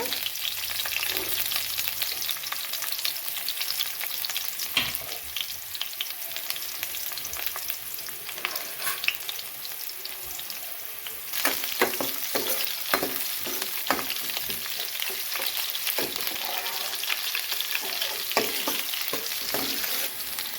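Small onions frying in hot oil with fennel and fenugreek seeds for a Tamil fish curry, a loud close sizzle broken by repeated scraping strokes of a spoon stirring through the pan.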